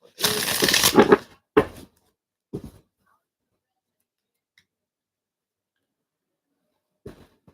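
A tarot deck is shuffled by hand: one loud, close riffle lasting about a second, then a few shorter shuffling bursts and a faint tap, separated by quiet gaps.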